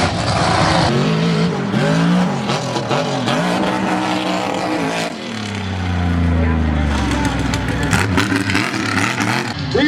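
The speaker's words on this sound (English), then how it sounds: "Truck's been running pretty good." Heavy truck fitted with 5-ton axles roaring and revving through a freestyle competition run, its engine rising and falling loudly and continuously, with a deep climbing rev near the end and talk mixed in.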